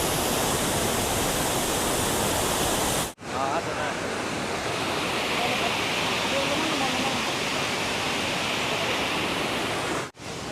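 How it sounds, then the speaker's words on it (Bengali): Dhuakund waterfall near Sasaram roars as a dense, unbroken wash of falling water, loud and close, with wind buffeting the microphone and brief cuts in the recording. "এই হচ্ছে ধোয়াকুণ্ড জলপ্রপাত।"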